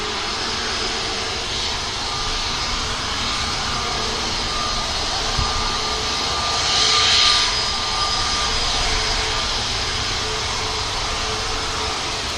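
An Airbus A321neo XLR airliner lines up on the runway at Manchester Airport, its engines producing a steady, moderately distant jet rumble and hiss with a faint tonal whine and a brief swell partway through, no talking over it.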